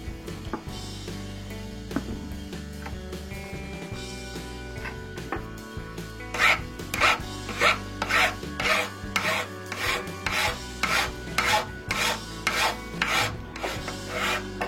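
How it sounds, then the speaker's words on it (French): A coarse file rasps against a homemade bicycle derailleur part, first in irregular scraping, then settling into a steady run of about a dozen loud, rhythmic back-and-forth strokes, close up with no talking. "je vais utiliser une lime grossière pour ajuster"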